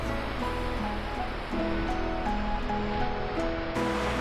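Ocean waves wash steadily onto the shore near Yeongdeok Sunrise Park in Korea, a constant loud broadband surf roar with no voices.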